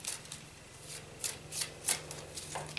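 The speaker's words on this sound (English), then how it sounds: "I'm going to go ahead and give my cards a little shuffle." Tarot cards being shuffled by hand, a soft run of papery riffles and slides with a few sharper flicks, close and quiet, with no one talking.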